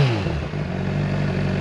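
Honda CBR600RR 600cc sport bike engine droning at a steady, loud rev close by, with a strong harmonic hum and a brief dip near the start before holding even.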